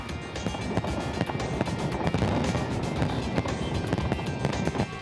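New Year fireworks burst over Moscow, a sustained run of crackling and popping explosions with scattered sharper bangs above a constant rumbling din, heard from a distance without a break.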